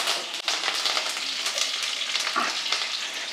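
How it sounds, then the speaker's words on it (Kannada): Curry leaves drop into hot oil already frying ginger and garlic for a country-chicken curry, giving a loud, continuous crackling sizzle up close. "ಕರ್ಬೇವಿನ ಸೊಪ್ಪು ಹಾಕ್ತಾಯಿದ್ದೀನಿ"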